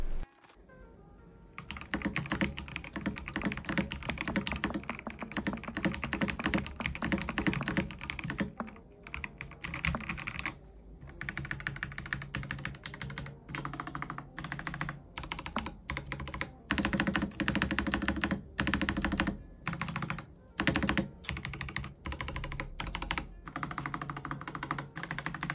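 Typing on a Skyloong SK96 mechanical keyboard with in-house switches and an enclosed plastic case: a steady stream of close, crisp keystroke clicks and clacks, with a few short pauses.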